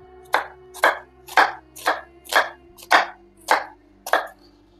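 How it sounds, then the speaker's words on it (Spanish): A kitchen knife finely chops an onion on a board for tabbouleh salad. Eight crisp, evenly spaced chops land close by at a steady, unhurried rhythm, with no talking. "Cogemos una cebollita y esta la cortamos finamente."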